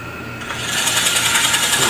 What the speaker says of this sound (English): Put the Fosner bit in there tight.